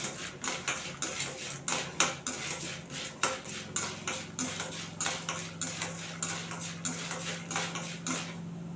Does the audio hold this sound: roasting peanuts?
yes